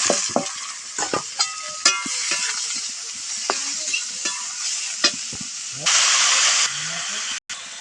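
Ginger, onion and garlic paste fries in a pan with a steady sizzle and hiss, broken by scraping stir strokes and clinks from a spoon; a louder burst of hissing steam rises near the end.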